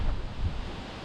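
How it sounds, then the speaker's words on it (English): Strong wind buffets the microphone outdoors in a city, a dense low rumble that stays steady and loud through the brief moment. "Just have a look at the wind."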